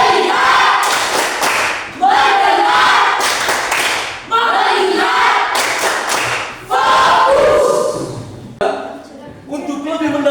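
A class of students doing the rhythmic 'tepuk fokus' clapping routine in a Catholic religious education lesson, loud bursts of group clapping and chanting voices repeating in several rounds close by.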